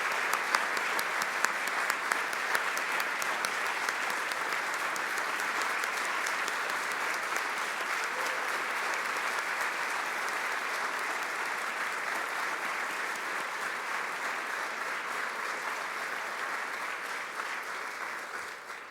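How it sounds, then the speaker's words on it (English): Sustained audience applause at a corporate company event honoring three departing colleagues, steady dense clapping from a large standing crowd for nearly twenty seconds, tapering slightly at the end. "we just do one more round of applause for Oliver, David, and John"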